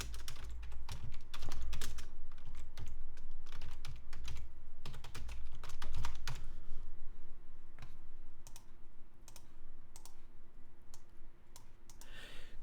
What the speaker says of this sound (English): go ahead and type that up.